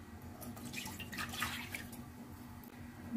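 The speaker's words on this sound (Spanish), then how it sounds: "Y por otro lado vamos a incorporar 2 tazas de agua" Two cups of water poured into a sweet and sour sauce for chicken, a faint soft trickling and splashing stream running steadily for a few seconds, quiet and close with no voice over it.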